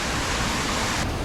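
Tumpak Sewu waterfall in Java, a loud, steady, close roar of falling water that fills the whole moment without any break.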